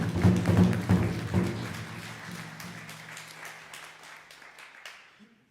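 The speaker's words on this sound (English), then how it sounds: "A round of applause." Graduation audience at a Native honoring ceremony gives a short round of clapping that starts fairly loud and gradually thins and fades out over several seconds, with a few scattered claps near the end.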